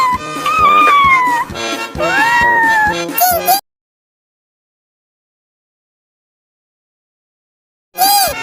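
A kitten meows in a quick run of high, bending cries over about three seconds, then falls silent for several seconds before one more short meow at the end.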